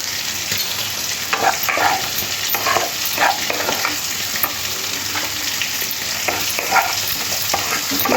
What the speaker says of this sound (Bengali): একটু সবজির সাথে মশলাটা খুব ভালো করে কষে নিয়েছি